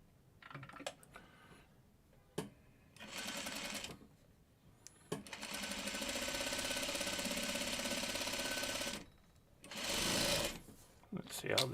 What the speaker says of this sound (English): now we can sew, try it again